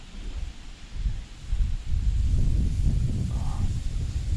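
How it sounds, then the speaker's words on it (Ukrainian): Strong gusts of wind during float fishing buffet the microphone with a loud low rumble that swells and stays heavy, no speech. "Навіть не вітер, а такі, знаєте, пориви вітру, аж удочку із рук вириває"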